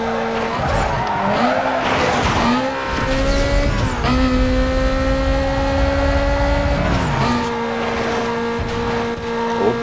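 A Mazda RX-8 in Need for Speed: Most Wanted races at high revs, its engine note climbing and dropping through gear shifts as tires squeal and skid around corners, loud and close, with no talking.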